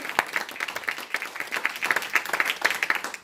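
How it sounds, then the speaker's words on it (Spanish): A church congregation applauds during an evangelical sermon, a moderately distant, uneven mix of many hands clapping with sharper individual claps standing out, no speech over it. "le damos una ofrenda de aplausos al Señor"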